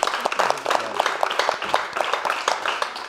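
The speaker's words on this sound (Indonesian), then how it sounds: "Tepuk tangan dong." Audience applause at a comedy roast show, scattered hand claps forming a light, uneven patter that is moderately loud, with some voices underneath.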